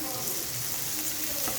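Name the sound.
cashew nuts frying in oil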